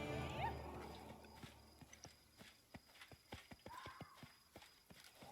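Horse hooves clip-clop in a steady, uneven series of sharp knocks in a video game town, moderately close, with occasional faint whinnies and background ambience.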